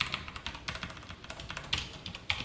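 Typing code on a computer keyboard, a steady flurry of quick, soft key clicks with a few louder taps, close and quiet, without speech.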